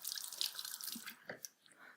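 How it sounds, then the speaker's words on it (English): Warm tap water runs and drips over a kitchen knife blade being rinsed at a sink, a soft close splashing patter with a few sharper drops near the end. "clean the blade under warm water,"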